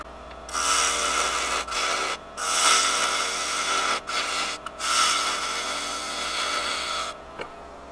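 Pointed gouge cutting a dovetail into a wooden lid spinning on a lathe, a steady close scraping rasp broken by a few brief pauses as the tool lifts off the wood.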